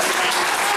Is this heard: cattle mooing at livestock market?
no